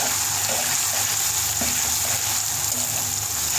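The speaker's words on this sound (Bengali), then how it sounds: "রসুন বাটাটা দিয়ে দিচ্ছি দিয়ে সেটা আর একটু হালকা রসুনটা একটু ভেজে নেবো" Garlic paste fries in a pan as part of a taro and chicken curry, giving a continuous, close, loud sizzle that holds steady throughout.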